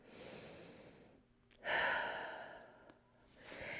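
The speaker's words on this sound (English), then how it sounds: "Take a big breath in and out." A slow, deep breath drawn in and let out during a yoga flow, a soft close airy inhale swelling into a longer audible exhale with quiet room tone around it.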